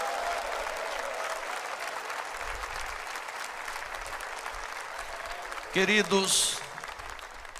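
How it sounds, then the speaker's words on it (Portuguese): A congregation at a men's faith gathering claps steadily for Jesus, a broad wash of applause running the whole time, with a voice speaking briefly near the end over it. "Só quem está feliz dá uma salva de palmas para o Rei Jesus"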